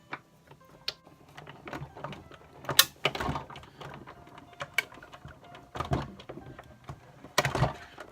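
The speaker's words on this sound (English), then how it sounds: "feed this through the Sizzix machine. It's quite quick and easy. Just have to sort of roll it through, turning the handle." Sizzix die-cutting machine cranked by hand to press paper through for a craft bauble, giving close, uneven mechanical clicks, creaks and rolling rumbles with a few sharper knocks, quiet overall and without talk.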